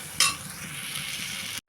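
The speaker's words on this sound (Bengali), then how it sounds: "দিয়ে আমি খুব ভালো করে এটা মিক্স করে নেব।" Spoon stirring cumin and coriander powder into a hot pan for a matar dal with ridge gourd, a soft continuous scraping sizzle opened by a brief metallic clink, close and quiet.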